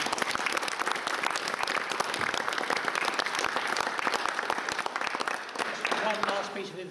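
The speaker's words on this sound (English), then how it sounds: "So I think a final lot of applause to all the contestants." An audience at a young chefs' cooking competition applauds the contestants, sustained dense clapping from a crowd that tapers slightly near the end.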